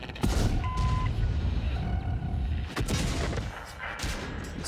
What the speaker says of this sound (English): He's firing HE.